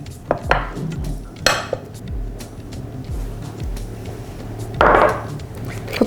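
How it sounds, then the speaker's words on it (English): Ceramic plates clink and knock together while a plate is set over Turkish semolina halva with ice cream and flipped, a few sharp close clatters and scrapes over a low steady background hum. "we'll take another plate, put it here, flip it over,"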